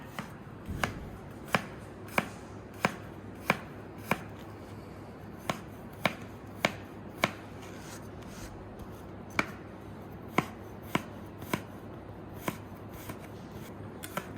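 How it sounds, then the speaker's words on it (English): Garlic being sliced thinly with a knife on a cutting board, a string of crisp, close, regular chops with short gaps and a few quicker cuts, no talking. "We're going to slice our garlic. Get those slices nice and thin."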